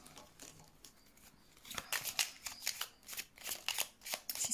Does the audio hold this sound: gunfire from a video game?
no